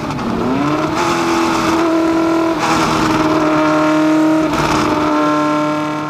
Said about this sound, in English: it's a long time since I drove a Cosworth engine car really in a Formula One chassis